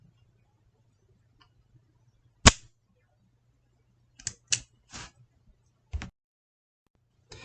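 A revolver dry-fired on an empty chamber gives several sharp, close mechanical clicks of the hammer and action, spaced irregularly in an otherwise quiet room.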